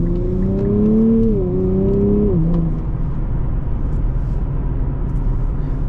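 A 2024 Nissan Z Heritage with an automatic gearbox drops a gear, and the steady loud engine drone steps its pitch down twice in quick succession before settling into an even, sustained hum.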